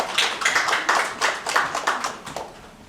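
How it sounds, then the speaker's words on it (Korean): Applause at the commemoration ceremony of the 35th national convention for people with intellectual and developmental disabilities, honoring award recipients: a steady, fairly rhythmic round of clapping from a crowd, moderately loud and fading slightly toward the end. "다시 한번 수상하신 분들께 박수 부탁드리겠습니다"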